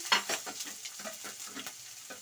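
Green chillies sizzle and crackle in hot oil after mustard seeds for a tempering, with a stirring clatter and short bursts of spattering over a steady frying hiss.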